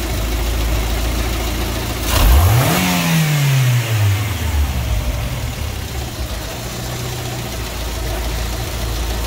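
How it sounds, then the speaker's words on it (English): A car engine revs hard as the throttle is snapped wide open, surging once to a loud peak and then falling steadily back toward idle, close up with a steady idle rumble before and after. "Because I opened the throttle wide open, it went straight to 100 kilopascals."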